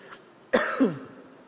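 A single sharp cough near the mic, a harsh burst followed by a short rasping tail, with quiet room tone around it.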